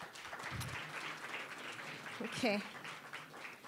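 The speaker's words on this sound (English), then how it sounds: "A round of applause" An audience at a blockchain media event applauds after a speaker, a diffuse patter of clapping with a brief spoken word and some background voices, moderately distant.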